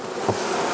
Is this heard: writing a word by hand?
no